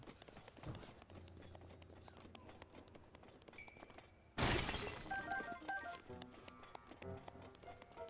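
An object shatters in The Legend of Zelda: Breath of the Wild with a sudden loud crash, followed by scattered tinkling debris and light game effects over quiet background sound.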